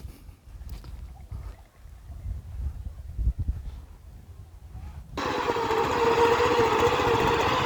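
Walk-behind tractor driving along a potato row in first gear while hilling planted potatoes: quiet rustling at first, then a steady, loud engine drone sets in abruptly and holds to the end.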